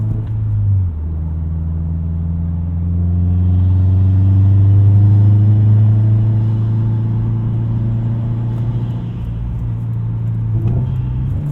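A 2019 Subaru WRX STI with an FBO tune is driven, its engine and exhaust giving a loud steady low rumble that swells as it pulls and then eases back, heard from inside the car.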